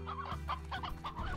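A hen in the video game Slime Rancher clucks several short, close times in a quick, uneven run, with no talk.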